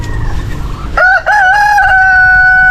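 A free-range farm rooster crows loudly and close by, one long drawn-out call after a brief lead-in, with soft background noise and no talking.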